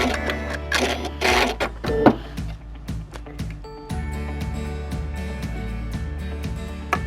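A sewing machine zigzag stitching a hem finish along the inside edge of knit fabric, running in quick repeated mechanical bursts with brief pauses, close and fairly loud, no talking.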